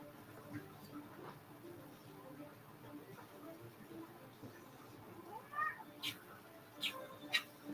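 A cat gives a few faint meows, most noticeably near the end, over a quiet indoor background.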